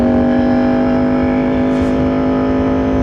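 A Yamaha R1 sport motorcycle pulls under light throttle, its engine holding a smooth, steady drone close to the rider, with no speech.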